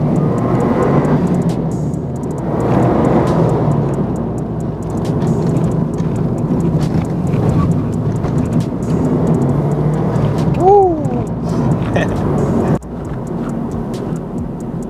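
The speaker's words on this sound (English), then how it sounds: "you can hear the more attractive noise that the Boxster engine makes, rather than it being powered over the exhaust note" Subaru Impreza WRX STI Type R V-Limited with a boxer engine, driving with a continuous loud engine rumble that rises and falls with throttle over road noise, easing off near the end.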